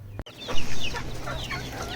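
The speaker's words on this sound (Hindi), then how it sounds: "तो आपको दिखाएंगे कि मुर्गियाँ कैसे ये शौक़ से खाती हैं।" Several chickens cluck close by while eating hydroponic fodder, a busy overlapping chatter of short clucks after a brief knock at the start.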